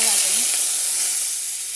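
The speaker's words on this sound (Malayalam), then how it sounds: "ഞാൻ കടുക് പൊട്ടിച്ചിട്ടാണ് ചെയ്യുന്നത് കേട്ടോ" Hot oil sizzles and crackles steadily up close, a dense hissing spatter of mustard seeds popping in a pan, with no voices.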